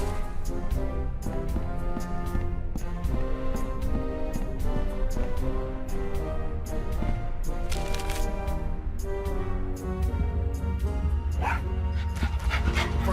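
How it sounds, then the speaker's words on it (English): A dog in the 2009 adventure game Tales of Monkey Island barks, yips and whimpers repeatedly over a dense, loud musical score, the short calls cutting through the music. "Oh, such a cute little dog."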